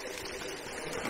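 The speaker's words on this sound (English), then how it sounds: "I got a little nice little waterfall right here that we can just fill up right there." Small waterfall on a hiking trail in Red River Gorge, steady close splashing and trickling water with no breaks.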